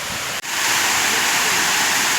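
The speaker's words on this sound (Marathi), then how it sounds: "ओळाचं पाणी थेट धरणामध्ये जातो" A large stream flows downhill below a dam and carries its water straight into the reservoir, making a loud, steady rushing roar heard up close with only a momentary dip near the start.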